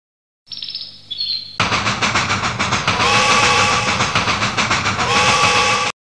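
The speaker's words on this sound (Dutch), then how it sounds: "Waar komt die trein nou vandaan?" A train rushes past in the 1995 Windows children's adventure game Max en Merel Gaan naar de Stad, a loud, steady rumbling clatter with rhythmic wheel clacks, preceded by brief high chirping tones.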